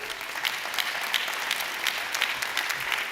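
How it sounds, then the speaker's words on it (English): A DCU spring graduation audience claps for MA in Documentary Practice graduates, producing loud, continuous applause with scattered sharper claps standing out from the crowd throughout. "You can give yourselves a round of applause."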